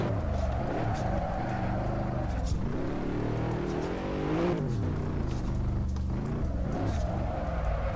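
A Nissan Skyline engine in the Assetto Corsa racing game drones steadily and loudly, with the pitch rising and falling through revs and gear changes over several seconds.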